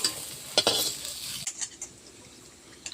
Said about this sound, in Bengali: পটলটা তুলে আলুটা ভেজে নেব